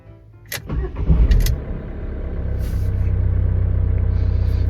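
A Renault Kangoo 1.5 dCi diesel engine cranks briefly with a few sharp starter clicks, then catches and settles into a steady, close idle rumble.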